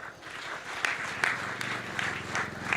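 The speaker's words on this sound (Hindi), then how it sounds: "पहले तो तालियां यहां बजाओ।" An audience at a Hindi poetry recital claps, a crowd of scattered hand claps with some overlapping voices and a low steady tone underneath, moderately loud throughout.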